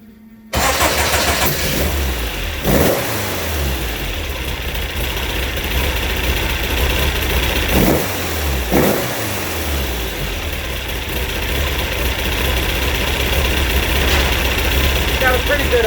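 A classic car's engine cranks and catches, then settles into a steady, close idle that runs on throughout, with a couple of brief rev surges along the way.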